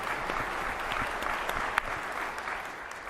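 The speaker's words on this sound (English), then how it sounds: "give yourselves a round of applause for appearing here now" Round of applause from a conference audience at a Bitcoin event, steady dense clapping filling the hall throughout with one sharp louder clap standing out near the middle.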